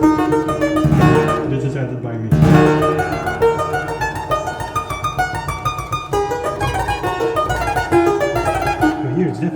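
Clavichord playing a Cramer etude, a dense run of plucked-sounding keyboard notes with a melody held over busy left-hand figures, close and steady with a brief gap near the start.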